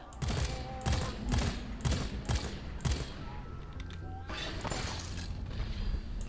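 Gunfire in the Deep Rock Galactic video game, with several loud bursts of rapid shots separated by short gaps, mixed with mechanical clanks and thuds.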